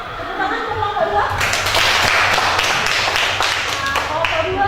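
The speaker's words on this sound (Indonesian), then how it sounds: "Tepuk tangan untuk kelompok 2." Students in a history classroom clap for a group that has just finished presenting, a scattered start under speech that swells into a brief, bright round of clapping while voices continue.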